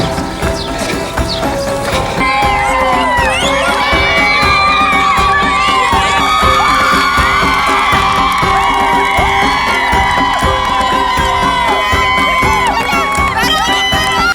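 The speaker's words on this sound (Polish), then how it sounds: "I pół miasta woła teraz, że jestem z Pakistanu." A large crowd of spectators along a marathon course in Persepolis, Iran, shouts and cheers continuously at a passing runner, with many overlapping voices and children's cries, a steady, loud wall of sound.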